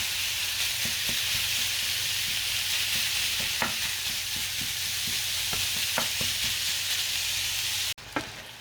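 Meat and pepper browning on high heat in a pan for a homemade bolognese sauce give a loud, continuous sizzle with scattered stirring scrapes and clicks, cut off abruptly near the end before a final faint tap.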